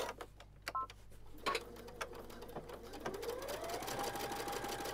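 A sewing machine stitches a line across fabric on a stiff bookmark with a folded fabric patch, whirring steadily up close and speeding up toward the end, with no one talking.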